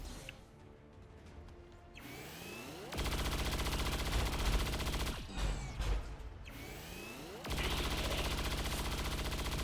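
Sustained bursts of rapid automatic gunfire in the XCOM 2 video game, two long dense stretches of rattling shots separated by quieter swooshing gaps, steady and close, with no talking.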